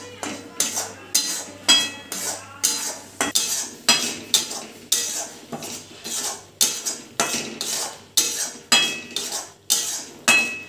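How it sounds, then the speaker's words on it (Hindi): Masala roasted in oil in a pan for a paneer dish, a spatula scraping and stirring in steady repeated strokes, each a bright metallic scrape, close and clear with no talk. "फिर भी तेल निकलने तक इसको थोड़ा सा भूजेंगे ताकि कच्चापन इसमें ना रह जाए।"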